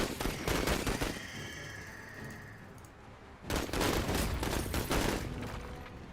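Rapid bursts of automatic gunfire from the MENACE strategy game, loud and dense, a sustained volley for about three seconds, a brief lull, then another heavy barrage.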